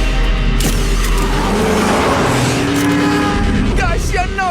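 A car engine revs hard as the car speeds along a city road toward an expressway exit, loud and continuous throughout, with people talking excitedly over the roar.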